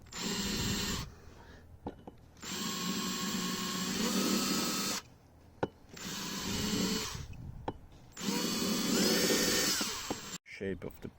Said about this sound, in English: So let's try and drill a hole into the pipe.